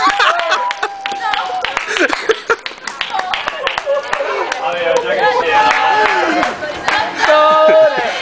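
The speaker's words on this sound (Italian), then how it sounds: "Applausi, applausi. Applausi." Friends clap and cheer for a graduate at a Bocconi University graduation celebration, with brisk close claps mixed with lively voices, shouts and laughter throughout.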